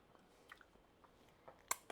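Leftover fried chicken and hot dog pieces are chewed close up, with faint, sporadic crunches and one sharper crunch near the end, quiet and with no speech.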